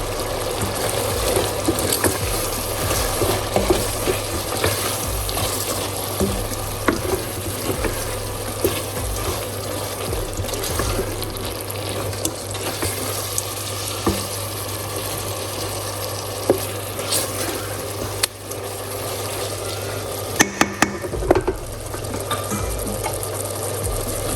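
Cabbage cooks with paprika and seasoning in a pot for Jamaican-style steamed cabbage, giving a steady, busy sizzling hiss over a constant low hum, with occasional clinks and stirs throughout.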